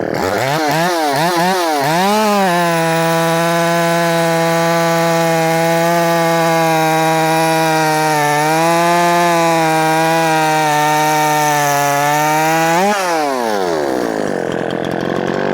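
A Poulan Pro 4620 chainsaw revs up quickly and holds a loud, steady high-pitched free-revving whine for about ten seconds, dips slightly midway, then drops back toward idle.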